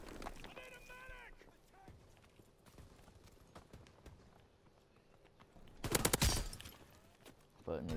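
Gunfire in a World War 2 shooter game, with scattered distant shots and a loud close burst of rapid fire near the end, under a mix of game noise and footsteps.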